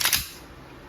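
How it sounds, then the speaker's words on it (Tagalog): One sharp report from an Umarex 1911 Classic full-metal CO2 BB pistol with blowback, a single crisp crack that decays quickly, heard alone. "Blowback, firing. One shot."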